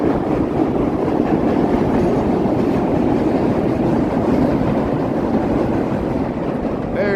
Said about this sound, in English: here's the L train going by here.